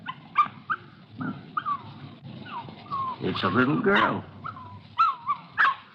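A puppy whimpers and yips in short, high-pitched bursts, close by, while people talk over and between the cries.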